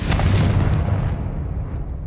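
A loud low boom from the Confringo blasting spell in Hogwarts Legacy bursts at the start, then decays into a fading rumble.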